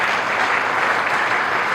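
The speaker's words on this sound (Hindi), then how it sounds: "जरा एक बार जोरदार तालियां बजा दो उन लोगों को।" A crowd at a motivational talk bursts into loud, dense clapping that fills the whole short moment as an even, continuous roar with no pauses.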